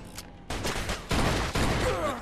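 Enemies open fire in the Mafia 2 video game: several loud close bursts of gunfire in quick succession, punchy cracks separated by brief gaps.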